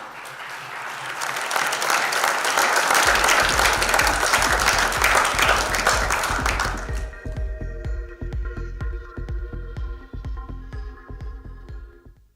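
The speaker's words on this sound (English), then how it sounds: "this is the moment to cheer louder and clap harder for this lady of the moment, Sanjam Sahi Gupta." At a women's maritime business conference, a crowd bursts into loud, dense applause with cheering for an honoree. After about seven seconds it gives way to sparser claps over sustained music tones.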